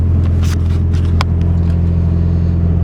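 A Nissan S13 with an SR20DET engine cruises down the road, a steady low engine drone and road rumble inside the car, with a few brief rattles and clicks over the top and no speech.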